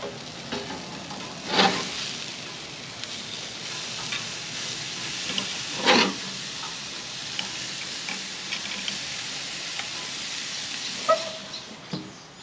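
Venison burgers seasoned with jalapeño sizzling steadily in a pan just after being flipped, a constant frying hiss with occasional louder sputters and the clack of a spatula.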